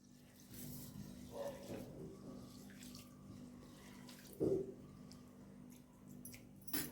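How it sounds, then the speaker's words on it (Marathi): Grains being rinsed in water while preparing chakli flour, soft swishing and sloshing with a couple of louder splashes, close and fairly quiet, no voices. "हे पाणी स्वच्छ येईल तोपर्यंत धुवून घेऊ आपण"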